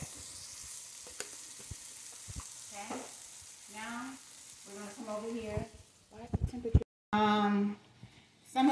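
A country breakfast skillet with onion and seasoning sizzles and crackles softly on the stove while a person talks over it, with a few scrapes and clatters from stirring.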